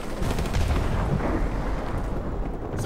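Heavy, continuous gunfire and booming blasts fill a Call of Duty Modern Warfare Remastered firefight aimed at a balcony, dense and loud throughout.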